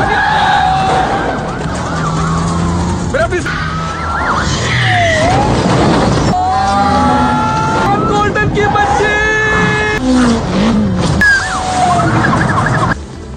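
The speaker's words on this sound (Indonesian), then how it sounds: "Anya pun akhirnya membegal tuh mobil polisi demi bisa menyelamatkan si Tevai. Dan terjadilah kejar-kejaran epic." Film car chase with a stolen police car: wailing police sirens rise and fall over engine noise and frantic action sounds, loud and close, with speech mixed in.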